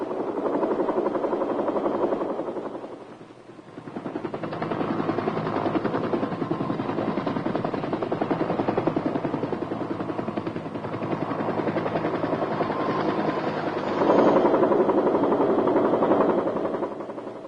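A Huey helicopter flies in wartime Vietnam, 1967, with a loud, continuous rotor thump and engine roar that dips briefly, returns, and swells near the end.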